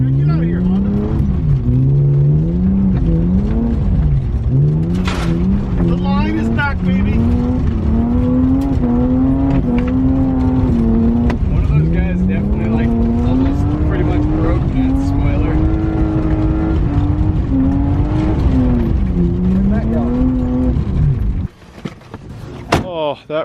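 BMW E36 drift car on the street, engine revving up and down in long loud wavering pulls for about twenty seconds, then cutting off abruptly with a few clatters.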